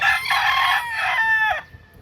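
Roosters from a backyard flock of gamefowl crow loudly and close, one long strained call followed by another that cuts off abruptly, leaving quiet farmyard background.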